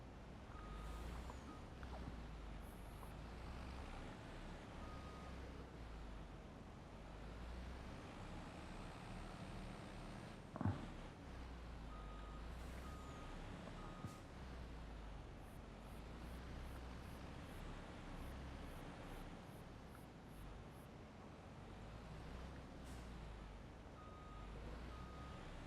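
A truck in Farming Simulator 25 rumbles steadily with a low engine drone while its reversing alarm beeps in short repeated pulses, with one sharp knock partway through; no talking.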